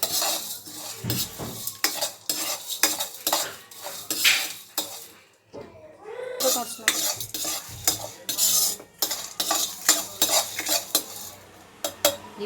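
Spices frying in a pan for horsegram curry, a spoon repeatedly scraping and knocking against the metal over a soft sizzle, busy and close with a brief pause midway, no voices.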